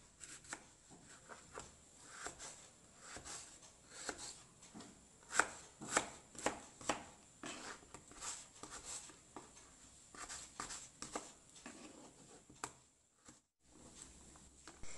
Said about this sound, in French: Après avoir découpé les pommes de terre